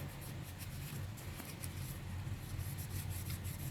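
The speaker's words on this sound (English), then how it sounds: "I would just take my silver cleaning cloth and just rub it" Silver cleaning cloth rubbed over rhinestone-set jewelry, a steady close soft rasping friction that continues without pause, with no talking.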